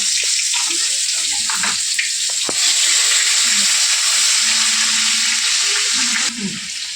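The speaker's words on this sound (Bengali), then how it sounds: "রসুনটা একটু ভেজে নিয়েছি" Chopped garlic frying in hot oil in a wok, a steady close hiss and crackle that runs unbroken through the whole stretch, with a few faint clinks and a short knock partway in and no talking over it.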